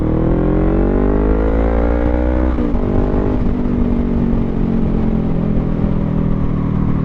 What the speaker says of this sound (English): it sounds pretty good, especially like if you just blip it like that. It's got a nice like deep rumble.